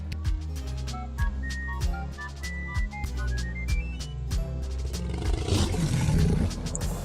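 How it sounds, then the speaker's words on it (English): A giant dragon in the video game Lil Guardsman lets out a roar over looping game music with bright melodic tones, the roar swelling into a broad, loud rumble near the end. "She just roars a disappointed roar."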